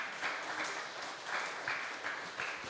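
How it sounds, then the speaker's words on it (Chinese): A church congregation applauds during a Taiwanese-language Sunday worship service, with many hands clapping in steady rhythmic bursts at moderate volume, heard from a slight distance. "我们就大大掌声"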